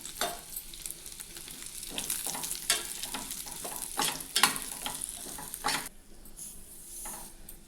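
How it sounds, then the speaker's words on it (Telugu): Raisins fry in hot fat for dry fruit laddu, giving a soft continuous sizzle broken by repeated scraping strokes of a spoon stirring in the pan, close and with no voices. "ఇప్పుడు ద్రాక్ష వేసాను, ఎండి ద్రాక్ష"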